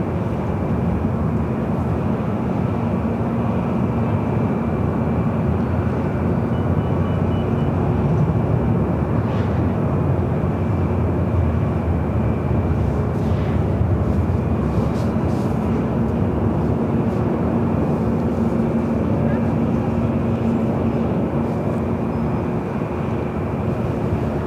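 A Boeing 747 jet taxis at LAX, heard as a continuous, loud low engine rumble and whine that holds steady for the whole stretch with no talk over it.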